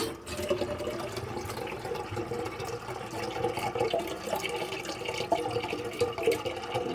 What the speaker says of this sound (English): Fill this up with a little more water, let it do its thing